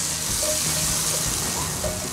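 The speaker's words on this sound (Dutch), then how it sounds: "Paddenstoeltjes zijn mooi bruin gebakken." Mushrooms fry in a pan with a steady, close sizzle and soft crackling, continuous and even throughout with no talking.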